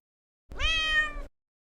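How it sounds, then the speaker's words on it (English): A single clear cat meow, close and fairly loud, rising then falling over about a second, with silence before and after. "sounds that do not have words, such as cat vocalizations"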